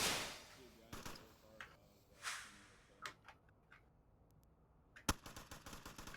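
Scattered gunfire in the VR shooter Onward during a competitive match: sharp cracks at irregular intervals, some distant and soft, one louder shot near the end followed by a quick burst, over a low hissy background.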